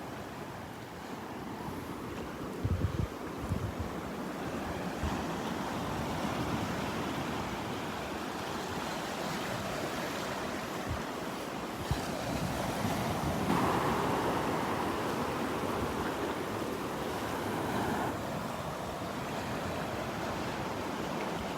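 Ocean waves breaking on the Gulf beach at Delnor-Wiggins, a steady roar of surf mixed with wind buffeting the microphone, continuous and fairly loud, with no voices.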